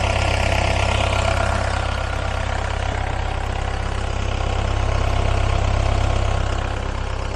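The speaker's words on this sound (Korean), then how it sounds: "엔진 소리도 굉장히 괜찮은 것 같고요" A used Volvo excavator's heavy diesel engine idles steadily with a deep, constant rumble and mechanical hum, close by and unchanging throughout.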